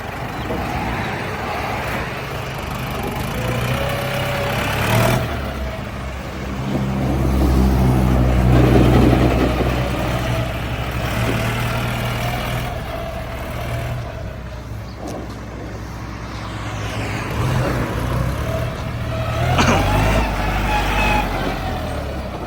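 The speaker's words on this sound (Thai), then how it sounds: "เรามาดูการขับเคลื่อนแล้วฟังเสียงเครื่องยนต์นี้ครับผม" A Yanmar 72-horsepower tractor's diesel engine idles steadily with a low, rumbling throb that swells slightly at times; no voices are present.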